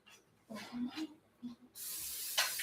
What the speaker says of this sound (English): I'm going to spray my skillet.